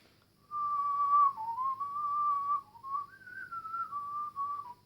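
A person whistles a Brahms melody alone, a clear sustained tone gliding through a few slow phrases with brief breaks between them.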